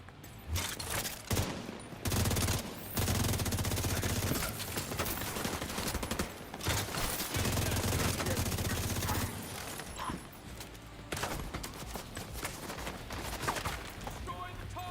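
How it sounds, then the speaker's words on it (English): Rapid bursts of automatic gunfire crackle and pop in The Division 2 firefight, with dense volleys, brief lulls, and further close shots throughout. "Enough with your firing, buddy."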